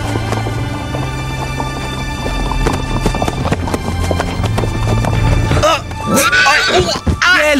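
While a person rides, a horse's hooves clip-clop in a quick rhythm, and loud neighing breaks out near the end, close by and mixed with other activity.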